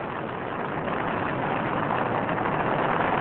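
Space Shuttle Endeavour's three liquid-fuel main engines thunder during the STS-113 launch, a continuous dense broadband roar that stays loud and unbroken with no voices over it.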